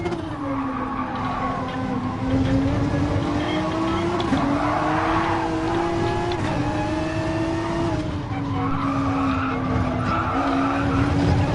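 Race car tyres screeching and skidding through a corner in the GT Sport video game during an FIA GTC Nations Cup online race, a sustained wavering squeal over steady engine drone, loud and continuous throughout.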